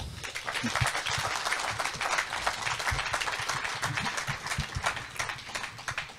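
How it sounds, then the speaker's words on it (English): An audience applauds at an evening talk event, dense hand clapping from a crowd that holds steady throughout. "So please give a warm round of applause for the two of them"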